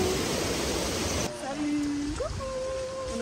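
A waterfall's cascades give a steady, dense rush of water throughout, with a faint tone and a voice sounding briefly over it partway through.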